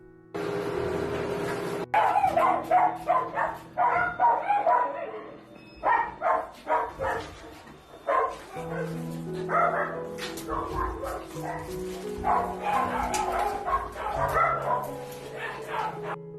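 Stray dogs bark and yip repeatedly in irregular bursts, moderately distant and somewhat faint, with several voices overlapping and brief pauses between volleys.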